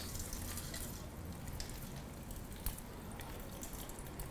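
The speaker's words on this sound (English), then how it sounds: "we're going to strain that into our glass" A shaken cocktail is strained into a glass, a faint steady trickle and patter of liquid with one small clink, heard close and quiet.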